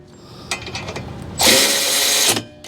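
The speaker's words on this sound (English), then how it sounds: "we'll snug these up with the little battery powered Milwaukee" A small battery-powered Milwaukee ratchet snugs the brake bracket bolts on a Lexus RX300, with a clicking lead-in and then a loud, close whirring burst of just under a second.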